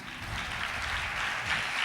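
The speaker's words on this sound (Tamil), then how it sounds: "கைத்தட்டி" A church congregation clapping together at a service, producing a dense, continuous patter of applause at moderate distance with no speech over it.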